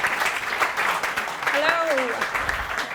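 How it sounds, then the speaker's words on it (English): Audience applause at a talk by a global SEO lead, a dense steady wash of clapping with a brief whistle rising and falling partway through. "Carine asked for a really loud round of applause, please. So can everyone give her a big clap?"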